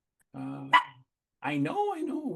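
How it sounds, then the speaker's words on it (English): A big dog barks outdoors, a few short, muffled barks mixed in with a person speaking close to the microphone. "my big dog, as you guys can hear him outside,"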